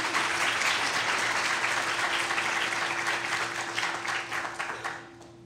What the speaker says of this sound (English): Can we have a round of applause for these panelists?